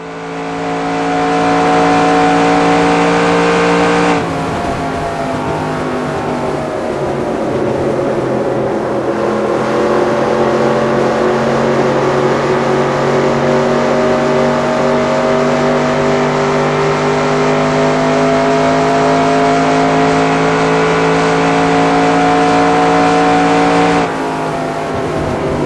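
A race car engine holds full throttle in NASCAR Racing 2002 at California, a loud steady high-revving drone with slowly shifting pitch and a brief lift near the start and end, no talk over it.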